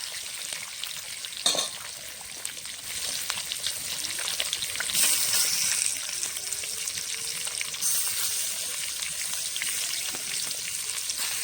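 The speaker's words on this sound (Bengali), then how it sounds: "বাকি মাছগুলো এইভাবে ভেজে নেব।" Rohu fish sizzles and crackles steadily in hot oil, a continuous close frying hiss with occasional utensil clinks and brief louder bursts.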